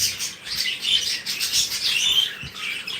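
Pet birds chirp in a dense, continuous high twittering, moderately loud and without voices.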